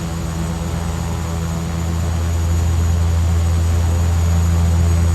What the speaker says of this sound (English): We have the right engine fully started at this point.